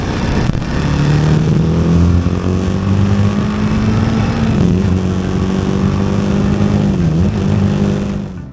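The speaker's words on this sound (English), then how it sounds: "The exhaust note has to be one of the most clattery and unrefined sounding ones in the market." A BMW G 310 GS motorcycle with a reverse-inclined single engine drones steadily and loudly close by, its clattery exhaust note holding a rough, even tone with slight pitch dips.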